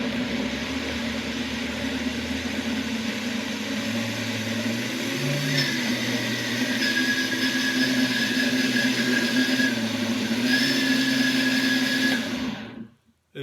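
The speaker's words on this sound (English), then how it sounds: "And I'm going to turn on the blender and let her rip." A blender whirring through a chicken taco marinade of lime juice, garlic, jalapeño and cilantro, a loud, steady motor drone with shifting pitch as the blades churn, cutting off abruptly at the end.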